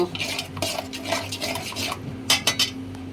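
Mango halwa made from peeled, blended mango is stirred in a pan with a utensil, giving repeated scraping and clinking strokes, close and fairly loud, with a few sharper clatters near the end.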